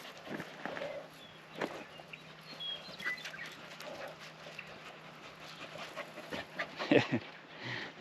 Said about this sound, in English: These dogs, they love to run around.